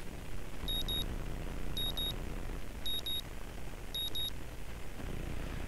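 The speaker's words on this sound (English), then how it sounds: "The morning alarm sounds and I roll over, switching it off." Morning alarm clock in the visual novel game Katawa Shoujo, beeping in four evenly spaced double-pulse bursts about a second apart, shrill and clear over a steady low background hum.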